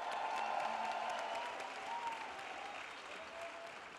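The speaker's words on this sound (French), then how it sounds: "Avec nous également Caroline Constant, qu'on peut applaudir bien fort." Crowd applause at a political and comedy festival, a steady dense patter of many hands clapping throughout, fairly loud and continuous, with no talking over it.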